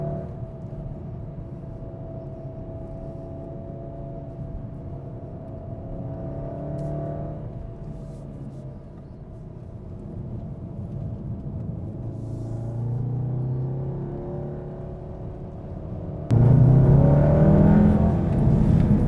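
A 2015 VW Golf R accelerating through tight corners from inside the cabin: engine note rising and falling in swells over road rumble, ending in a louder, harsher surge of revs.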